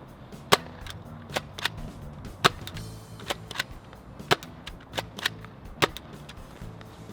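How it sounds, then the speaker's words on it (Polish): Sharp snapping pops of a toy dart blaster firing, about a dozen shots in an irregular rapid series, close and loud with quiet gaps between. "Wystrzelimy 8 strzałek, czyli podwójny magazynek i sprawdzimy, jak daleko polecimy."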